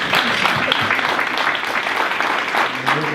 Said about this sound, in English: can we give the panel a round of applause,